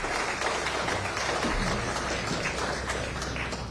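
Audience applause at the Royal Bahamas Defence Force awards and medal ceremony, a steady wash of many hands clapping in a large room, moderately loud and continuous with no talking over it.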